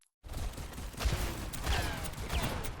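Mercy's pistol fires in Overwatch 2, a string of quick, light shots popping at irregular intervals over busy, fairly quiet match noise.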